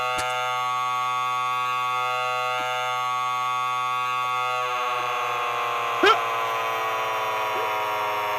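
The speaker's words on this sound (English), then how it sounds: "Can they copyright the buzzer noise?" Harsh, sustained electronic buzzer tone from a played clip, a steady loud drone with a sharp click partway through and a clear voice speaking over it.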